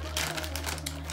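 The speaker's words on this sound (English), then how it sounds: "Now let's go ahead and take it out the plastic bag." A pixie human-hair wig pulled out of a plastic bag, brief close crinkling bursts over a low steady hum.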